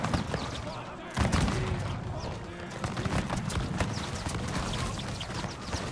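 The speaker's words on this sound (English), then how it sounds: "here comes the volleys" Musket volleys in a Total War battle set in 1830s France: dense crackling gunfire bursts ripple over a loud, busy battlefield din with a sharp volley near the start, followed by sustained rattling shots.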